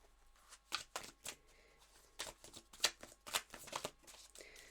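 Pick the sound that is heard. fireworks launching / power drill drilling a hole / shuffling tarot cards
shuffling tarot cards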